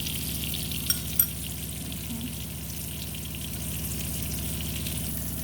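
Salmon fillets frying in a pan give a steady, close sizzling hiss throughout, with a couple of brief clicks near the start and no talking.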